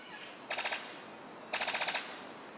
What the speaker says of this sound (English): His courtship song sounds like a machine gun.